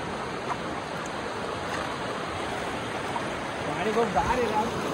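Tapalwadi waterfall flowing, a steady broadband rush of falling water that fills the scene, with faint voices rising near the end.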